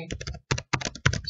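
Laptop keyboard typing comes in quick bursts of clicky keystrokes, with three or four short clusters separated by brief pauses, close and clear with no talk.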